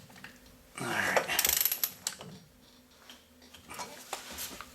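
Rear axle bearing nut on a Dodge Ram 2500 being tightened down with a ratcheting tool, a quick burst of ratchet clicks followed by softer intermittent mechanical ticks and handling noises, close and moderately loud.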